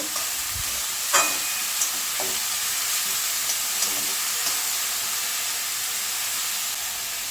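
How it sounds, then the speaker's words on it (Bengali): Cabbage is stirred in a hot frying pan, a steady sizzle running throughout with a few sharp scrapes and taps of the spoon against the pan, close and moderately loud. "বাঁধাকপিটা ভালো করে নেড়ে নেব।"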